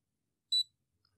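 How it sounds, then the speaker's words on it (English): A light meter gives a single short, high electronic beep, clear and isolated against near silence, with a tiny faint blip afterward. "Wait for the beep."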